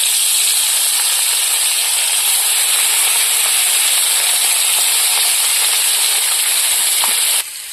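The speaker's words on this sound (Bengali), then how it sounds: "এবার মাছগুলো ভেজে নেব।" Katla fish fry in hot oil in a wok over a village clay stove, giving a loud, steady, bright sizzle and hiss that runs without a break before dropping off suddenly near the end.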